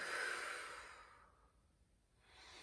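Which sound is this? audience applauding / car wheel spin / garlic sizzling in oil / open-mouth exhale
open-mouth exhale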